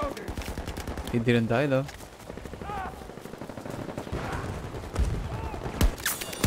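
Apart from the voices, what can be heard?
gunfire in video game Battlefield 2042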